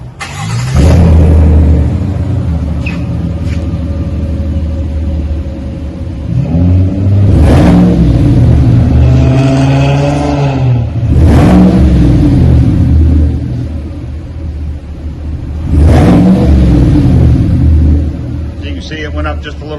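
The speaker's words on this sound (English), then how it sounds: "Just going to give it a little bit more depth, a little deeper exhaust note." A 2021 Chevy Silverado fitted with a Flowmaster Super 44 muffler revs up several times, deep exhaust note rising and falling over a steady idle rumble, loud and close.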